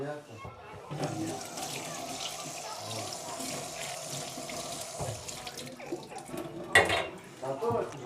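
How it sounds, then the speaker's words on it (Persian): Dishes rinsed under a running kitchen tap, with a continuous splash of water broken by clinks of crockery, close by, while people talk now and then. "و من اینا یه آبی بکشم و تمیزشون کنم"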